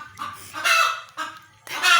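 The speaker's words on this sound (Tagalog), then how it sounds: "Ayan ang ingay ng mga manok." Several chickens cluck and squawk loudly near a new concrete pond, sounding in three bursts with short gaps between them.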